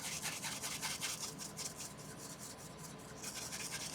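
A brush rubs acrylic paint onto canvas, making close, continuous scratchy strokes in a quick back-and-forth rhythm that grows louder and softer.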